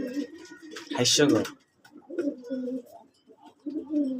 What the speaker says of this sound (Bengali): আরেকটা কবুতর হোম দিতেছে